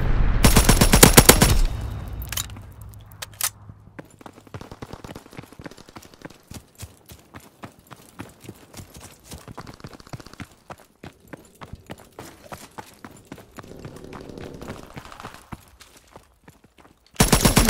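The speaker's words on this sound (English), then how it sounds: "Strafing run inbound" Rapid bursts of aircraft strafing gunfire in a Call of Duty WWII multiplayer match at Monte Cassino, a loud blast at the start followed by dense, rattling volleys of automatic fire and distant shots, ending with another loud burst.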